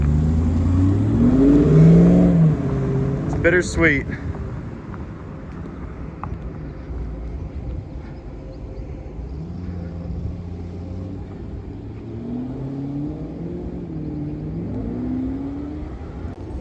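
A salvage Audi RS5 revs and drives off, its engine note climbing through the gears and then settling into a fainter, distant drone; a voice speaks briefly near the start.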